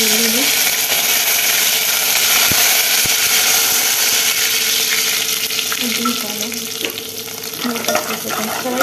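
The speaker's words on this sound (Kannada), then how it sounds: "ನಾನು ಫ್ರೈ ಮಾಡ್ಕೊತಾ ಇದ್ದೀನಿ ನಾನಿಲ್ಲಿ ಸಾಸಿವೆ ಹಾಕೊತಾ ಇದ್ದೀನಿ" Peanuts and mustard seeds frying in hot oil and ghee, a dense continuous sizzle close up with occasional spattering pops and stirring scrapes throughout.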